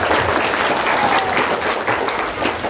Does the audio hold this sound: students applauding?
yes